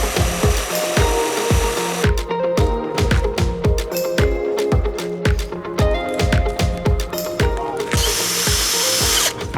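A power drill whirs loudly in repeated bursts while driving hex screws on a boat hauled out at a shipyard in Monfalcone, Italy, its motor pulsing in a steady rhythm with sharp clicks, close by and with no voices.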